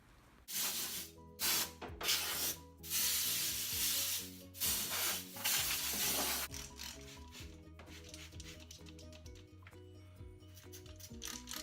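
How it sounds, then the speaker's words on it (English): Bursts of hissing rust remover sprayed onto rusty metal in short pulses, close by, followed by rubbing and scraping sounds against a steady background hum. "So we'll spray that on and see how it goes."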